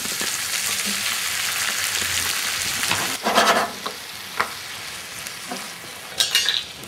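Whole tomatoes frying in a pan for matbucha give a steady hiss and sizzle, broken by several louder scraping bursts as they are stirred and pushed around.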